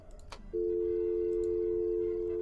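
In the video game Fears to Fathom: Norwood, a few faint clicks, then a steady, loud electronic tone from a non-working phone begins and drones on without a break.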